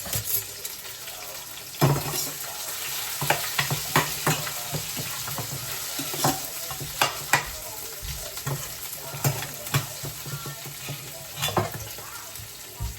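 Green chili and cumin fry in a pan while a ladle stirs them, giving a steady sizzle with repeated scraping clinks through the whole stretch and no talk.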